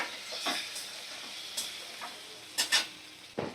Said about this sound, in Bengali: এইবারে ডিম আর আলুগুলো দিয়ে দিলাম।